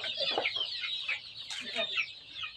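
Young desi (native Bangladeshi) chickens, 34 days old, cluck and chirp continuously at close range while being offered leafy greens, a busy overlapping flock chatter with no talk.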